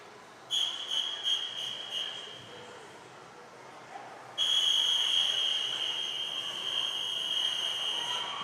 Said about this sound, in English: that's a long whistle